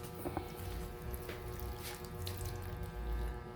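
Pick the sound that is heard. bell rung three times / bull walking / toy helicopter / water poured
water poured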